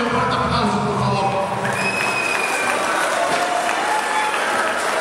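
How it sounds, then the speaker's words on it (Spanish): Loud crowd applause for the municipal president of Zitlaltepec at the San Pablo town fair, dense clapping with a few cheers mixed in, sustained and close across the whole stretch, with some voices underneath. "Brindémosle un fuerte aplauso, por favor."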